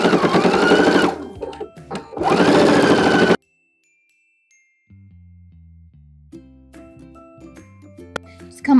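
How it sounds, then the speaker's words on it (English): Sewing machine stitching along a jacket zipper line, a rapid buzzing run of stitches that pauses, then resumes in a second burst, followed by quiet and faint tonal chimes. "So I'm going to be stitching right in the groove here where you see the stitch line."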